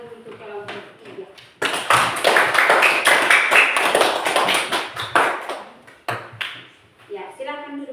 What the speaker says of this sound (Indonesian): kita memberi aplaus satu kali lagi untuk kelompok 3